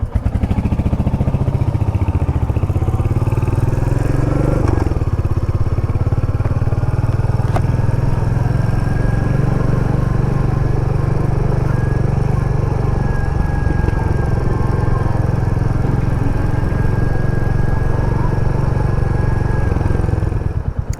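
A Royal Enfield Hunter 350 motorcycle engine idles close by, a loud, steady low thump with a faint rattle that continues throughout, with no speech over it.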